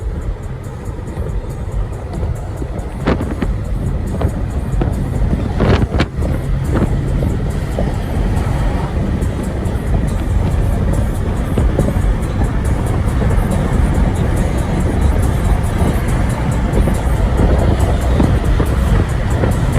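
Steady, loud road noise from inside a car moving through Manhattan traffic, with continuous engine and tire rumble, occasional faint thumps and passing-vehicle swells throughout, and no talking.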